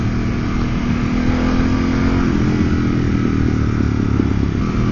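Harley-Davidson Pan America motorcycle pulling away in cold weather, a steady, loud engine drone with a low rumbling throb, close by and continuous.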